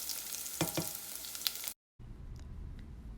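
Garlic frying with cumin in oil while being stirred, a close hissing sizzle with a few scraping strokes, cut by a brief gap before the frying resumes more softly.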